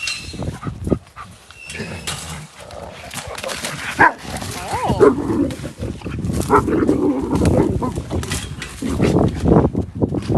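A dog barks and growls in short bursts at close range, mixed with people talking and some handling noise.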